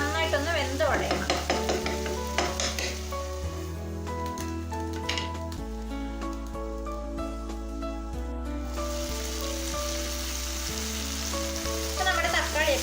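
Tomatoes cook in a pan for a butter chicken dish, giving a continuous frying sizzle with occasional stirring, partly under loud background music.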